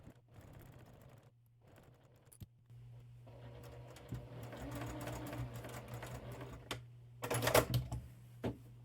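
A sewing machine runs a quarter-inch seam along a scrap-fabric bookmark, its steady hum continuing at moderate volume with intermittent clicks and a louder burst near the end.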